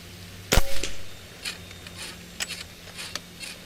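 A Karma airgun fires at targets outdoors on a windy ranch, one sharp loud crack, followed by several fainter clicks and ticks of the mechanism and distant target hits scattered over the next few seconds.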